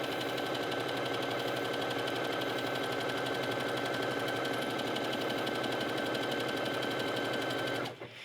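A sewing machine stitches a seam in stretch fabric for a mermaid tail, running at a fast, even, continuous whir close up before stopping abruptly at the end.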